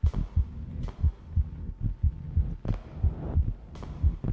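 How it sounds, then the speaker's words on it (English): A heartbeat effect from the horror video game [REC] Shutter thumps in a steady double-beat rhythm, low and close, over a faint background hum with no voices. "And the heartbeat melds very nicely into the music, the sound in the background."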